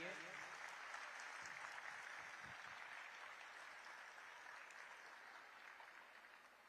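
A large audience claps at a launch event in Raipur, Chhattisgarh, making a steady, fairly distant wash of applause that slowly fades, with faint voices underneath.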